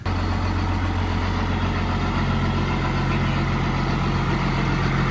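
A truck engine, jump-started from a school bus parked tight beside it, idles at close range. The low rumble is loud, steady and even throughout.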